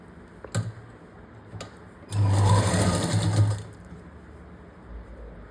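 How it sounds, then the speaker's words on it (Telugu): A sewing machine stitches fabric in one steady, loud mechanical run of about a second and a half, set off by a few sharp clicks before it and a quiet hum afterward. "ఇలా స్లో స్లోగా అది పైకి కనిపించకుండా నిదానంగా కుట్టేసుకోండి"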